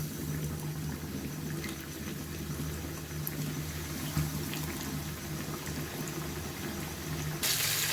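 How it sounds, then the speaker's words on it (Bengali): Chicken wings frying in hot oil in a kadai wok for crispy fried chicken, a faint, steady bubbling sizzle heard alone and close by. "তেলটা আমার গরম হয়ে গেছে। এতে আমি এক এক করে উইংসগুলো ছেড়ে দেব।"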